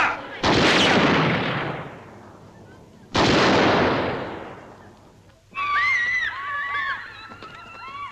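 A firing squad in a 1955 film set in Kenya fires two sharp volleys a few seconds apart. Each crack is loud and rings out in a long decaying echo, and a brief bird-like chirping follows.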